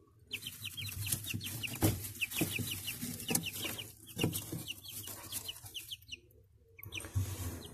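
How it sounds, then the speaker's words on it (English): Backyard chickens clucking steadily in rapid repeated bursts, close and fairly loud, with scattered knocks and rustles underneath and no talking. "Don't hide, you silly chicken."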